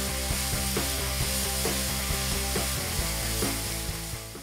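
Watermelon rinds sizzle loudly in a hot pan alongside bean sprouts as they are stir-fried, a dense steady crackle with rhythmic scraping and clacking of the spatula throughout, tapering slightly at the end.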